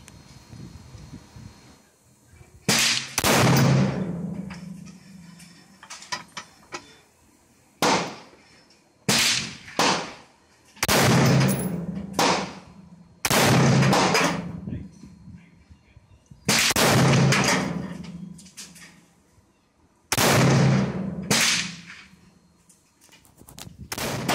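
A rifle fires 5.56 rounds at a 100-yard target: about a dozen sharp, loud, close shots come in small clusters a second or two apart, each ringing out in a decaying echo.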